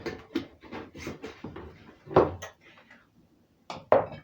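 Granulated garlic spooned into dry soup mix containers, a series of light clinks and taps from spoon against containers, several quick knocks followed by a pause and two sharper clacks.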